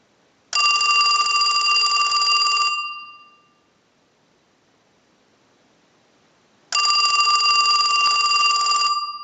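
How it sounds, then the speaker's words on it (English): Two long bursts of an electronic telephone ring from a Western Electric 2554 telephone, loud and steady, separated by a few seconds of silence. "send a ring cycle like you were getting a call"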